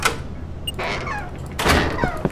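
A door slams shut in the survival horror game Neural Parasite, one heavy thud at 1.6 seconds following earlier scraping door movement and a rising creak, all fairly loud over a dense game ambience.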